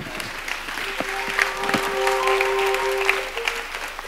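Audience at a theatre season presentation applauding, a dense, continuous patter of many hands filling the room, with a few faint voices mixed in.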